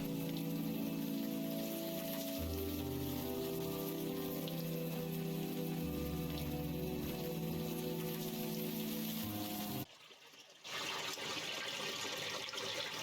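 Steady rain falls in the video game Unavowed, a continuous close hiss with a low droning background tone, cutting out briefly near the end before resuming.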